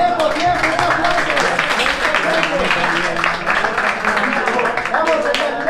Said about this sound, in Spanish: Tiempo, tiempo, tiempo, un aplauso.